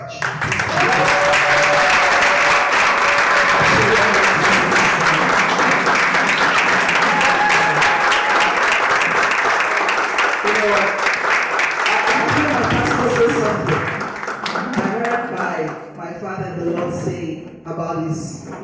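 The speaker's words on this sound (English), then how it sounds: "I want us to honor and to clap and to thank God for this man" Applause from an audience at a leadership breakfast, honoring a pastor and coach: dense, steady clapping fills the room for about thirteen seconds, then thins and fades as a voice speaks over it.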